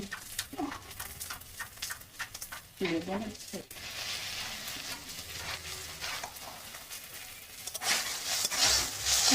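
Broccoli fried with turmeric in a pan gives a soft, steady sizzle with occasional stirring scrapes, while a voice speaks over it throughout.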